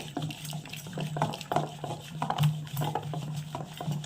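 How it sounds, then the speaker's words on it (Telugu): Water is poured into mashed toor dal and worked in, giving soft wet sloshing and pattering squelches in an uneven rhythm close by. "ఇప్పుడు మనం ఇందులోకి వాటర్ని యాడ్ చేసుకుంటున్నాం"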